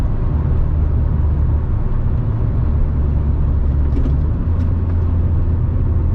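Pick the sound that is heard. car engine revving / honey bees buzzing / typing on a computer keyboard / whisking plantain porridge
car engine revving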